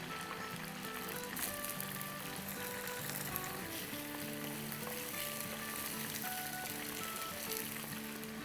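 Kebabs frying in oil in a kadhai while being roasted for an Iftar recipe, a steady close sizzle running throughout with a low hum beneath and occasional stirring.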